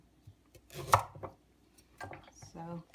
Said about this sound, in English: you just cut the beet in 4 to kind of help the blender out a little bit because this is a really